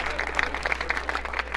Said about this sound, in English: Here's some applause for that.